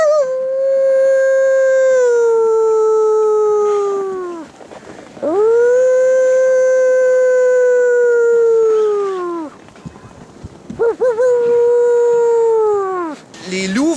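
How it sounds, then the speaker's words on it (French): Wolves at Parc Oméga in winter howl in long, sustained, gliding tones, three drawn-out howls in sequence with brief gaps between, loud and close with rich harmonics, one voice overlapping near the end. "Les loups vont hurler entre eux pour ou organiser une chasse"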